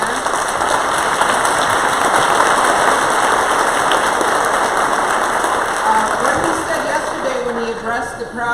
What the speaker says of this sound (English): let's give her a big hand